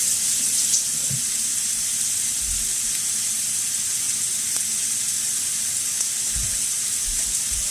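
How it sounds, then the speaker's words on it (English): Hands are washed under a running tap, with a steady hiss of water pouring into a sink and a few low splashes and thumps as the hands move through the stream, close and continuous, with no talking. "Let me wash my hands."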